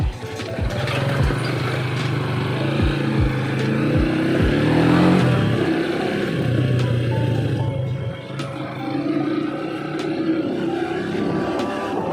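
A Rusi Classic 250 motorcycle engine runs close by at a repair stop, idling with a low, steady throb broken by several sharp pops and a brief rev in the middle before settling back.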